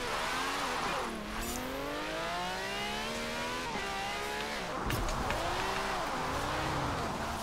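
A car tuned for drift and handling in Forza Horizon 4, its engine revving hard through repeated rising gear sweeps, loud and close with tire noise, with no talk over it.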